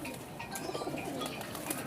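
Soft cooing from a Sher Dil pigeon, mixed with chirpy bird calls, continuous and close over a busy rustling background with no talk.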